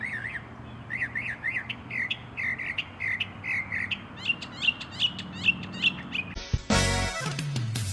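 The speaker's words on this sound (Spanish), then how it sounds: "Mockingbird en español es sinsonte, un tipo de ave que puede imitar un montón de sonidos" A mockingbird sings a long run of short, repeated chirping and whistled phrases at a steady rhythm, clear and moderately close. Near the end, a loud, harsh burst of noise cuts in.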